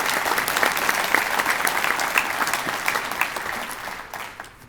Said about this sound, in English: Now we can clap for those folks